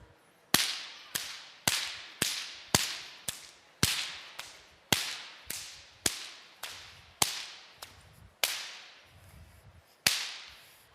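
Short whips crack sharply about fifteen times in an uneven rhythm, each snap loud and close with a quick fading tail, spaced roughly half a second to a second apart with no talk.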